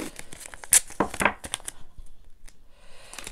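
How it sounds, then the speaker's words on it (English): Tape ripped off a roll while a room is being taped off for painting, a few quick close tearing and crinkling bursts, fairly quiet, followed by softer rustling. "Let me finish taping it."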